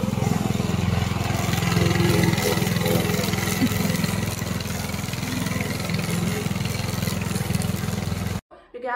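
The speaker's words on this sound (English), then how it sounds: "Today I'm going to introduce our remote control lawn mower." A remote control lawn mower's motor hums and drones continuously, fairly loud, like a small mower engine running, before cutting off abruptly near the end.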